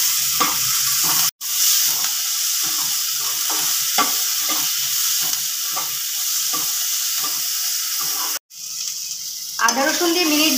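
Ginger garlic paste fries in oil with capsicum and onion, a loud steady sizzle broken by repeated scraping stirs of a spatula in the pan.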